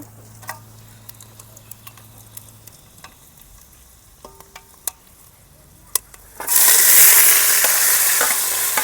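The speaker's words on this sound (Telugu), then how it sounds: "తర్వాత ఒట్టు మిరపకాయలు వేస్తున్నా" Dried red chillies drop into hot oil with cumin for a tempering, bursting into a loud, steady sizzle partway through after a quiet stretch of faint clicks and stirring.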